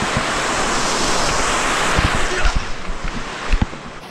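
A fast-flowing mountain stream on the Sentier des Bans hiking trail near Chaudun, roaring as a loud, dense, continuous rush of water close by, with a few brief knocks and footsteps near the end.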